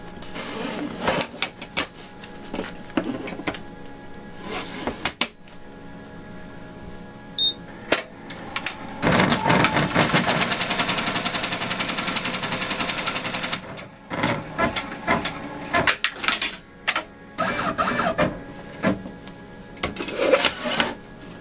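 A sewing machine stitches crazy quilt block pieces, close and loud in bursts of rapid needle chatter, with a long continuous run in the middle and shorter stops and starts around it.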